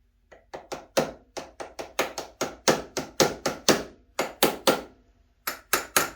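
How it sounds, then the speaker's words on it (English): Sharp metallic taps come in quick bursts of two to four, pausing briefly between groups, close and fairly loud against a quiet background. "See if we can use my baby hammer here for this."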